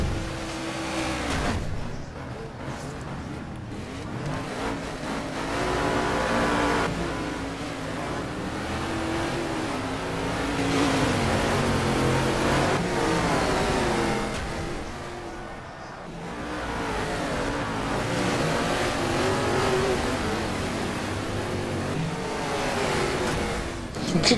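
A rally car engine in the racing game Colin McRae Dirt 2 roars continuously, its pitch rising and falling through repeated revs and gear changes, loud and sustained with brief dips between bursts of acceleration.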